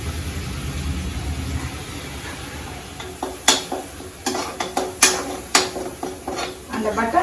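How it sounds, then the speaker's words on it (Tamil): Ground onion paste drops into hot butter for paneer butter masala, first a low rumbling sizzle, then a run of sharp stirring clinks and scrapes against the pan, close and moderately loud. "அரைச்சி வச்சுருக்கிற அந்த வெங்காயம் விழுது ஃபுல்லாக போடுறேன்."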